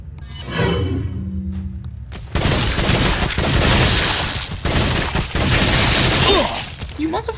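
Gunfire in the horror action game Resident Evil 4 comes as loud, heavy blasts and crashing impacts amid dense game noise, repeated through the scene with a loud player voice over it.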